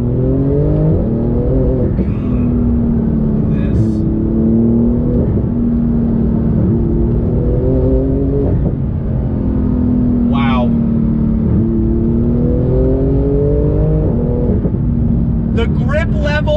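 Porsche 911 GT2 RS accelerating hard on throttle, its engine note climbing through rising revs in repeated pulls with shifts between them, loud and close from inside the car, with a voice talking over it for much of the time.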